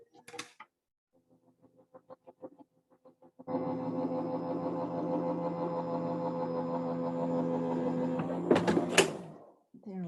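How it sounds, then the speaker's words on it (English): A Go Power cutting machine cutting out a frame: a few soft clicks, then a steady close mechanical hum and whir for about five seconds, ending in a brief sharp clatter as it stops. "Can you guys hear the Go Power machine, or is it whisper technology?"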